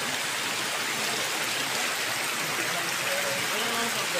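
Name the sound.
waterfall in the forest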